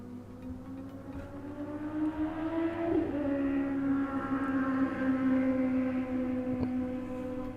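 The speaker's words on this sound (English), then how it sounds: "There's someone riding a motorbike outside my house." A motorbike rides past outside a house, its droning engine tone rising as it approaches and holding steady before fading, heard faintly from a distance indoors.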